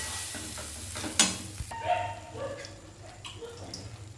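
Dal mixed with a little water in a pan, stirred thoroughly: close scraping and sloshing with a sharp clink early, fading to quieter swirling.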